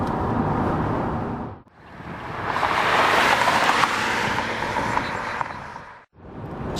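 A Mercedes-Benz CL500 V8 roars steadily and loud, swelling and falling through a long rev before dropping off sharply, with no voices over it.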